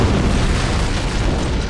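Continuous rumbling blast aboard a ship from an antimatter charge in Halo: Combat Evolved, a dense, loud roar filling the whole clip with no pause.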